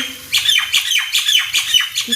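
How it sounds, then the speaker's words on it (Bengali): Repeated sharp bird calls, squawky descending chirps coming in a steady rhythm about twice a second, fairly close and clear with no talking. "পাখিগুলো ডাকছে"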